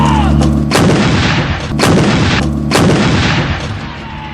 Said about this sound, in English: The gun will now fire 3 rounds in area diamond.